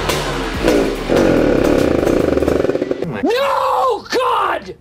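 A Honda NSR two-stroke motorcycle engine runs close by, a loud buzzing idle that is revved twice in sharp rising and falling bursts.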